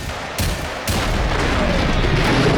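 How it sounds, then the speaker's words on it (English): Gunfire in the video game Generation Zero: a couple of loud sharp shots, one near the start and another just before the one-second mark, leaving a dense, continuous rumbling roar that carries on after them. "Good, a couple of shots."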